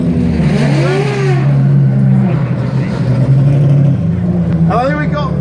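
A Ferrari 599 supercar accelerating away on the Goodwood Festival of Speed hill, loud engine revving through gear changes with rising pitch sweeps, close by, with a second car revving near the end and a commentator talking over it.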